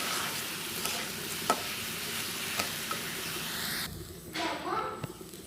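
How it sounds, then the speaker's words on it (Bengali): Polao rice grains sizzling and hissing in a pan close by as they fry toward brown, with occasional scraping stirs and small clicks; the sizzle dips and changes near the end. "আমি পোলাওয়ের চালগুলোকে ভালো করে ভেজে নিব যতক্ষণ না পর্যন্ত বাদামি কালার হয়ে যায়"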